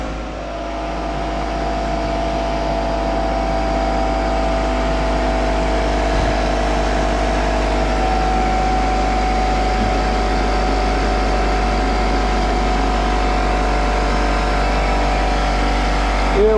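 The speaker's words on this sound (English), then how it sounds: "let's put the old generator on" An old generator drones steadily for the whole stretch, a constant low engine hum that holds an even loudness with no breaks or changes in pace.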